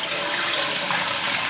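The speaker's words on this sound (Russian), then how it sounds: "автоклав мы должны залить теплой водой" Warm water pours steadily into an autoclave, a continuous loud rushing splash with no talk.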